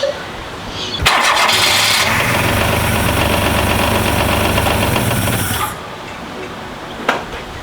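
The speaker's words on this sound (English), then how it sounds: "the car was running, but not very well" A 1992 Daihatsu Mira from a neglected restoration project cranks and fires up abruptly, then runs with a rough, loud, buzzing idle for several seconds before cutting off, followed by a brief clunk.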